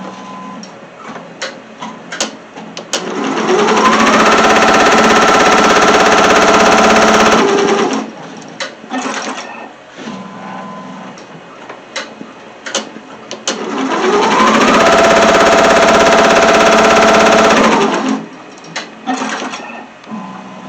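A sewing machine stitches teddy bear fabric in two loud, steady runs of rapid mechanical whirring, each lasting a few seconds, with brief pauses and small handling noises between them.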